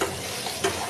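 Long strips of ridge gourd frying in hot oil with nigella seeds, a steady close sizzle broken by a quick stir near the end, with no talking.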